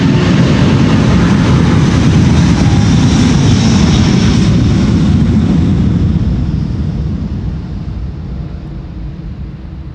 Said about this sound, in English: Delta Airlines Flight 143 to Seattle,